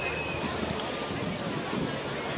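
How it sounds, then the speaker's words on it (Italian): Sea surf rolls steadily in the background at a Mediterranean beach on the Spanish coast, a continuous broad wash of waves mixed with wind buffeting the microphone. "Col mare di sottofondo."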